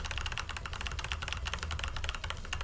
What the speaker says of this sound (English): I have a mechanical keyboard, it's really nice. I really like the way it sounds.